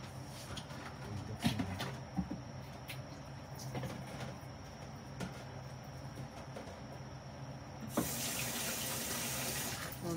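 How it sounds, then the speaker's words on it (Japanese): Tap water runs steadily into a kitchen sink while udon is being made, a constant splashing hiss with occasional clinks of dishes. The flow turns stronger near the end, and no one speaks. "ここに置いとけば水入りますから。"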